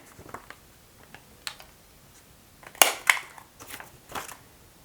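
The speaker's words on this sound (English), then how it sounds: "I'm going to take my corner trimmer and I'm going to trim the corners" A corner trimmer punching the corners of paper planner printables: a few soft clicks, then a sharp crunching cut and several more snipping clicks, close and alone.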